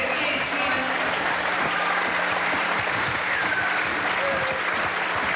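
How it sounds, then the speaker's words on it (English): A crowd applauds in a gym after a basketball player fouls out during a gold medal game. The clapping is loud, continuous and steady, with a commentator's voice faintly underneath. "everybody from Kake gives Steve Fields a hand"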